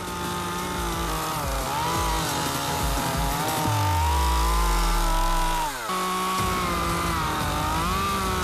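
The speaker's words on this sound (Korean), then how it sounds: "이번에는 전기톱을 이용해 썩은 부위를 제거하기 시작합니다." A chainsaw runs continuously at close range, its engine pitch rising and dipping as it bites into rotten wood inside an old tree trunk.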